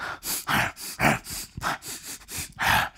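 A voice imitating a bear, making a rapid series of breathy snorts and huffs, about eight bursts in three seconds, close and loud.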